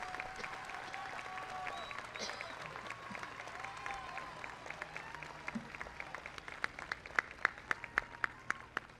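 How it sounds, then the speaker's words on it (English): Applause from a crowd at a college ceremony, steady at first and thinning out, with scattered individual claps growing more distinct toward the end. "join me in giving a round of applause to this group"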